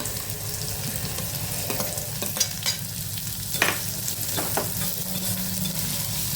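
Chopped onions sizzle steadily in hot oil close by, with occasional scraping clicks of a spoon stirring the pan and no talking.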